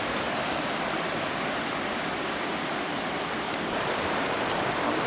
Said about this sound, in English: I like this view here where you can see the waterfall and the giant rocks that sit next to it.